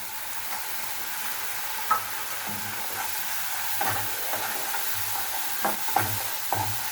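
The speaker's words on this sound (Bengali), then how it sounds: "মশলাটাকে এখন আমি একটু ভালোভাবে কষিয়ে নিচ্ছি" Spice paste with blended tomato stir-fries in a pan for a shorisha puti dish, a steady close sizzle broken by repeated scraping stirs of a spatula, with no talking.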